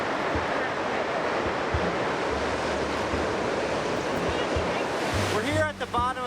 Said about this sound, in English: it's one of the most violent waterfalls I've ever seen. It's roaring.